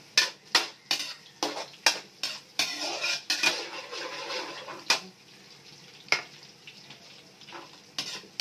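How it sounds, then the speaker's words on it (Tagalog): Minced garlic, with ginger nearby, sautés in a hot pan for beef broccoli, as a utensil scrapes and clinks sharply against the pan in an uneven rhythm over a faint sizzle. "Mekos-mekos lang hanggang sa mag-golden brown yung bawang."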